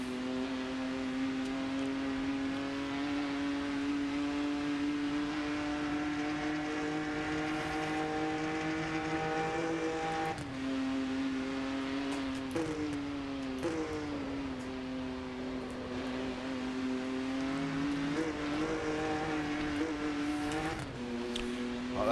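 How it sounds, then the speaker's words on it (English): Front tyres scrubbing through bends in the racing game Rennaport, a faint hiss under a loud steady engine drone with brief dips and pitch shifts as corners come up. "you can hear the front tyres scrub into these bends here"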